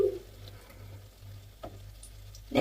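Banana fritters fry in hot oil with a soft, low sizzle over a faint hum, punctuated by a few sharper crackles and pops.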